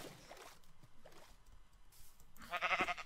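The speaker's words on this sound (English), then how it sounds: "Alright, there's white sheep." Minecraft sheep bleat in short wavering calls, one near the start and a louder bleat at the end, with quiet game sounds between.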